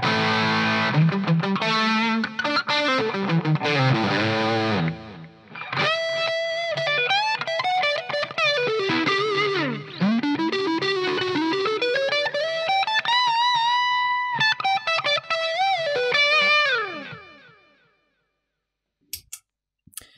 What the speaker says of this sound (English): Let's now try putting on the drive pedal with the delay